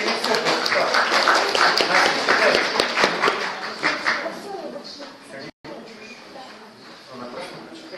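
An audience claps loudly and densely after a poetry reading in a poetry relay event, the applause tapering off in the later seconds while voices talk over it.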